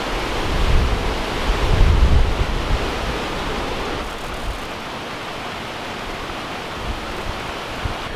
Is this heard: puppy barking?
no